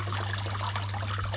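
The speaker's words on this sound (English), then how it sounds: "that pump's working fine, there's nothing wrong with that pump" Hot tub filter pump running while water flows and trickles, a steady hum beneath continuous splashing wash, close and even throughout.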